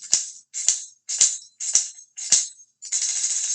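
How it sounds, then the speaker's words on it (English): Five sharp tambourine hits with bright jingling, followed by a steady continuous shake of the jingles, close and loud. "the tambourine sounds like this"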